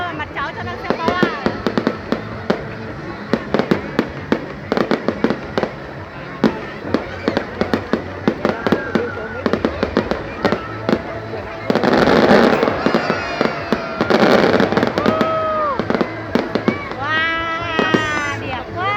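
A fireworks display in Hai Duong sends out repeated sharp pops and crackling bursts at irregular intervals, with denser volleys midway, while people talk and exclaim throughout.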